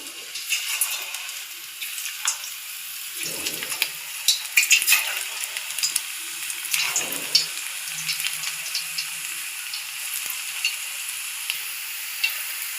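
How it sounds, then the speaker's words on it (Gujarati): Thin slices of raw banana frying in very hot oil as wafers, a steady bright sizzle and crackle throughout with occasional scraping stirs, close and alone. "તેલ એકદમ ગરમ હશે એટલે સરસ આપણી કેળાની વેફર તળાઈ જશે"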